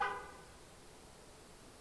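A car horn honks once outside, faint and distant, a short tonal blast that fades into low background hiss.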